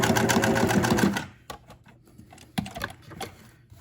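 A sewing machine stitches the side seam of a cinch bag, running in a steady loud burst for about a second, then stopping. Scattered clicks and small handling taps follow as the needle is backed off.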